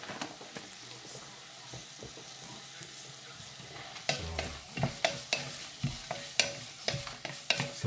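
Raisins sautéing in a pan for a simple Valenciana, with scraping stirs and soft sizzling that turn into sharper, repeated clinks and scrapes in the second half, near and moderately loud, with no talking.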